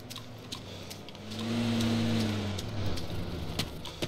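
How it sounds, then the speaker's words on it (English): A Jeep engine in the game DayZ drones as the vehicle approaches, a low hum that swells to a peak and fades, faint against light rain-like background hiss. "There's a fucking Jeep driving towards me."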